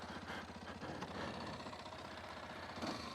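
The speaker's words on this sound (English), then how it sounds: "the exhaust sound is very, very quiet" A Kawasaki KLX230S motorcycle engine runs with a very quiet exhaust, giving a steady, low mechanical rumble and light knocking that continues evenly and close by for the whole stretch.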